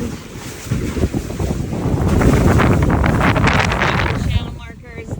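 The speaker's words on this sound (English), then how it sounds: "Sorry about the sound of the wind" Strong wind on a boat buffets the microphone in gusty, roaring waves, swelling louder midway, with water rushing faintly underneath.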